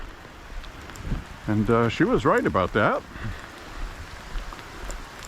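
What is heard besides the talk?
rain falling during a walk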